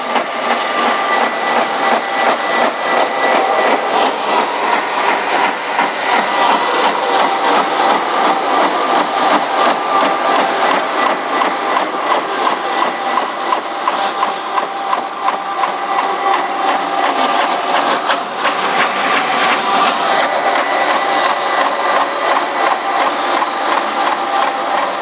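A Model 480P cutting machine test-cuts a plastic bin, a loud steady grinding roar with a rapid rhythmic chatter that holds without a break throughout.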